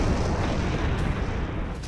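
A bomb blast from a missile strike on an Israeli city during the Iran-Israel conflict rolls on as a dense, loud continuous rumble, heard alone without any voices.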